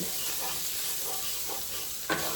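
Butter sizzles and hisses steadily in a hot skillet while a spoon stirs and scrapes the pan, with a brief clink near the end; no one speaks.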